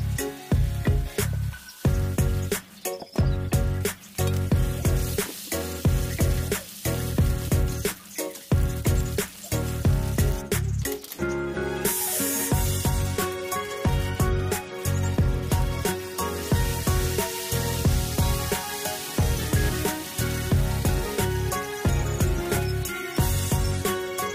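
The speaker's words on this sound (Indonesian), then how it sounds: "Ini bumbu aku goreng dulu ya sebelum aku ulek." Spice paste sizzles and spits steadily in a hot pan with oil, a dense crackling fry that runs continuously and loud throughout, with no voices over it.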